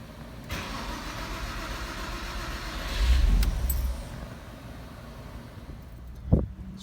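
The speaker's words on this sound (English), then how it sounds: "Let's see how long it takes to crank after changing the fuel filter." A 1997–2001 Porsche 986 Boxster with a freshly changed fuel filter cranks for a few seconds, catches and settles into an idle, ending with a sharp knock or clunk near the close.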